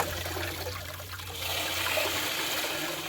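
Water flushing out of a new radiator on a 1972 Buick Skylark, a steady rushing splash and trickle close by with a low hum underneath, swelling slightly.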